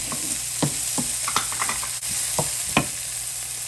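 Red and sweet peppers sizzle in a pan with beef ribs on the stove, a steady frying hiss broken by several sharp utensil scrapes and stirs spaced irregularly, close and clear with no talking.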